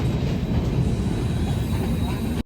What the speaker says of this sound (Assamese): এইখন আমাৰ ট্ৰেইন আহি গ'ল